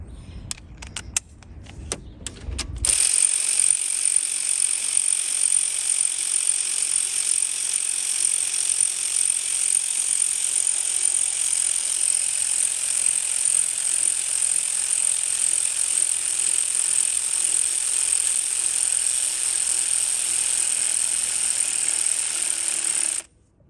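Ratchet and socket turning a bolt during an alternator replacement on a Toyota Corolla: a steady, rapid mechanical clicking whir that runs continuously for about twenty seconds at close range.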